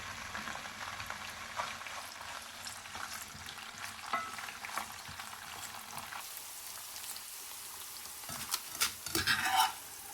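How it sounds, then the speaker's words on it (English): Chickpeas frying in ghee in a pan, a steady soft sizzle with scattered crackles and stirring taps, growing busier and louder near the end. "In a pan, add 2 tablespoons of ghee. First, fry 1 cup of chickpeas for about 5 minutes."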